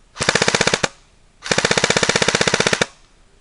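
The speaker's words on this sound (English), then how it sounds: "the rate of fire on this is pretty good, as you can about to hear" D-Boys SCAR-L Mk16 airsoft rifle firing two rapid full-auto bursts, a short one then a longer one, each a fast even string of sharp mechanical clacks, close and loud with no talking.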